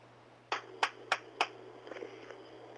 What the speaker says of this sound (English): Give me 5 good claps.